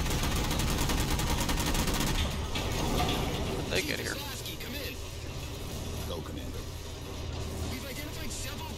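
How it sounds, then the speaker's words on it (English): Automatic cannon fire in the video game Halo 4: a dense, loud, continuous mechanical clatter that is heaviest over the first two seconds, then eases under a busy wash of game noise. "I can actually shoot at things at range with the automatic cannon"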